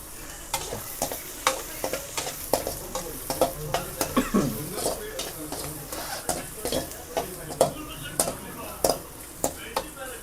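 Food fries in a little oil in a pan as a utensil knocks and scrapes against it in repeated sharp taps over a low sizzle, with people talking quietly in the background.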